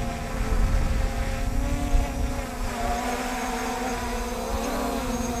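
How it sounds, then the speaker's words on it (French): An MJX Bugs 3 Pro drone hovers nearby, its propellers giving a steady, loud, insect-like buzz that holds an even pitch throughout. "Le drone se restabilise à son point GPS."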